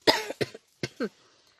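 Four harsh coughs in two quick pairs, close and loud, with short silences between them and no talking.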